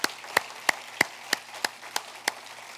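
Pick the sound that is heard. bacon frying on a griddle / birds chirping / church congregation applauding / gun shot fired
church congregation applauding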